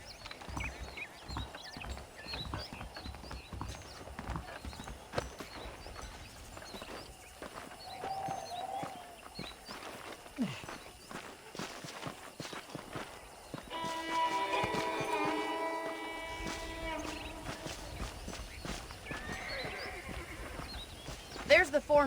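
Horses in the video game Red Dead Redemption, with hooves clip-clopping and an occasional whinny mixed into game ambience, mid-distance and fairly soft under ongoing activity.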